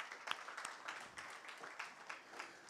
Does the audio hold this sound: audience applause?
yes